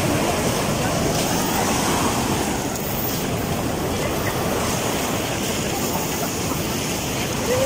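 Ocean waves wash in a continuous roar at Sadranan Beach, Indonesia, with gusts of wind buffeting the microphone throughout.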